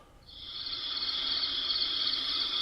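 Recorded cricket chirping played from a bedside star projector, a continuous bright, shrill trill that fades in during the first half second and then holds steady and clear, alone without talk.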